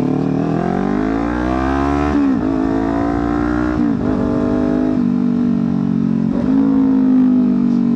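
A Kawasaki Ninja 400 sport motorcycle engine revs up and down repeatedly, pitch climbing through the gears with brief drops between, loud and close, no voices.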